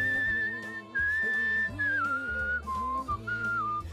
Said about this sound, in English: We'll whistle on the way too.